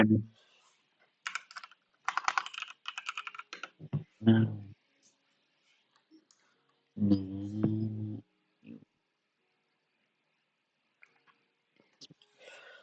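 Computer keyboard typing in a game chat, a few short bursts of soft key clicks spaced out over the clip, with people talking between them.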